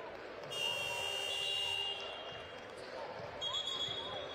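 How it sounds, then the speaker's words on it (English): A basketball shot clock buzzer sounds during a EuroLeague women's game between Fenerbahce and Casademont Zaragoza, a sustained electronic tone over arena crowd noise, followed by a second shorter blast. "the referee's going to stop the clock because the shot clock buzzer sounded"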